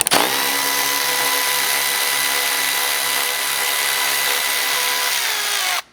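Power tool with a 12mm socket spinning off roof rack bolts on a Lexus GX, one loud continuous high whirring run of about six seconds that stops abruptly, close up with no talk.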